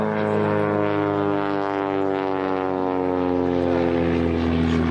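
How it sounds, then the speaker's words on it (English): A Tiger Moth biplane drones steadily overhead at an airshow at Woburn Abbey, its propeller engine giving a loud, even, continuous buzz with strong harmonic whine throughout. "The aeroplane and the pilot."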